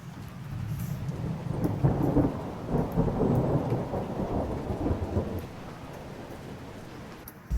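Thunder rumbles through a steady downpour during a mountain hike in Auvergne near the Lac de Guéry, a long rolling peal with rain hissing underneath, loud and close, easing off toward the end.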